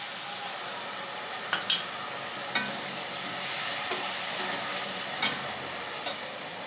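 A sauce and cornflour mixture stirred into a hot wok for chicken chilli, producing a steady soft sizzle broken by several sharp clicks of the utensil against the pan.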